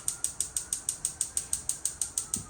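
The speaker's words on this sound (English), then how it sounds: "You're going to hit the button, push in, you're going to hear that click." The gas stove burner igniter in a 2025 Cruiser RV Stryker ST3018 toy hauler clicks rapidly and evenly, about six sharp ticks per second, close and alone without talk.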